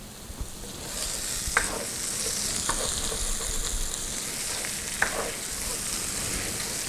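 Sausage frying in red gravy, stirred in the pan: a steady close sizzle with scattered scraping clicks from the spoon, no talk.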